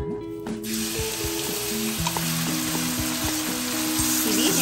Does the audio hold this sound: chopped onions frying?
yes